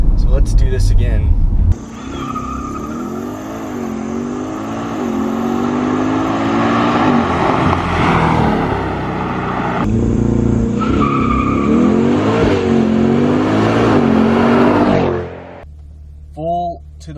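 A 2020 C8 mid-engine Corvette launches at full throttle under launch control, engine roaring loud and close as it climbs through gears with pitch sweeps and brief dips at shifts, then cutting off near the end.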